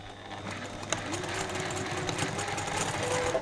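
Sewing machine stitching a quilt seam from the top corner, a steady fast mechanical whir with a rhythmic needle clatter, close and continuous for a few seconds.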